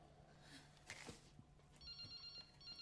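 A Nokia 3310 rings in the video game Resident Evil Requiem. The quiet electronic ring tone enters partway through over a low ambient hum and a few faint clicks.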